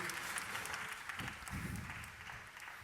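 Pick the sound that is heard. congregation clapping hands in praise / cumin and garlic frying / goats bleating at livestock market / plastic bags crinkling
congregation clapping hands in praise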